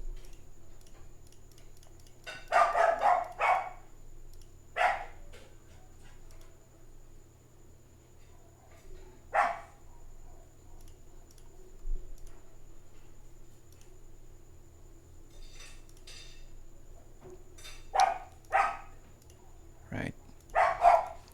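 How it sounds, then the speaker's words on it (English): A pet dog barking indoors in short, separate bursts spread across the clip, fairly distant and faint, with occasional keyboard ticks and a brief spoken word. "I have to enable the filter if my dog's gonna bark all the time."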